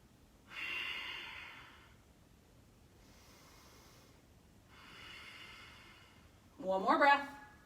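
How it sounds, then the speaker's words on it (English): Slow, deep yoga breaths during a guided flow, a long airy exhale, a softer second breath and another exhale, then a brief louder snort-like sniff at the end, close and alone with no talking. "Breathing here."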